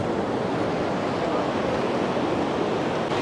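Loud, steady roar of a flooded river at the old Bhuntar bridge in Himachal after a cloudburst, a dense continuous wash of churning water with no breaks.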